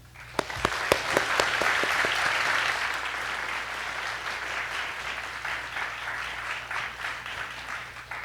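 Audience applause welcomes artist Xu Bing at a talk at The California Studio, starting with a few sharp claps and swelling into steady, sustained clapping from a crowd that holds for several seconds.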